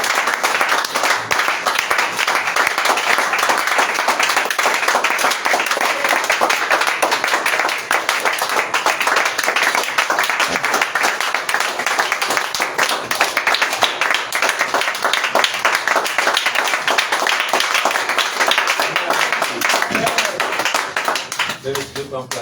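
A church congregation at an evening thanksgiving service claps and applauds steadily and loudly for over twenty seconds, a dense continuous wash of hands with voices mixed in throughout.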